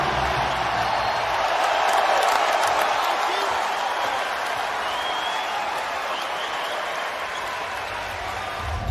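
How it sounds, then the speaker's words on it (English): Basketball video game crowd applauding as Dwyane Wade comes off the bench, a broad steady wash of clapping and crowd noise that swells slightly then holds for several seconds. "We get Dwayne Wade up off the bench and the crowd giving him his props."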